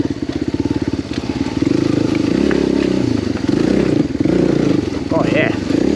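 A Yamaha WR250R or TT-R250 dirt bike carries luggage on an enduro ride, its single-cylinder engine pulsing rapidly and then revving steadily and loudly close up, with a voice briefly audible near the end.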